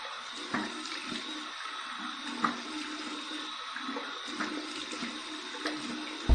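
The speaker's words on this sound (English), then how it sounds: "Here's my warm water rinse to get off the excess slickness." Warm running water splashes during a post-shave face rinse, a steady close trickle and gush punctuated by several splashing bursts.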